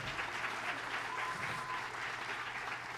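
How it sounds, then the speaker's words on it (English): A high school audience at a fall choir concert applauds the choir members, a dense, even wash of clapping heard on its own throughout. "And give them a round of applause,"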